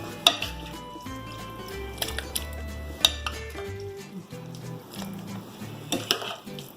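Cold borscht being stirred and mixed in a pot, with a run of light metallic clinks and scrapes of a utensil against the pot, soft and close, no talk.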